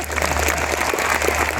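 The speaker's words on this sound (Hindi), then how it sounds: "हिंदुस्तान के लिए इतनी कम तालियां बजेंगी" A mushaira audience at a university poetry event claps steadily for a moment, a moderate, even patter of many hands over a constant low hum.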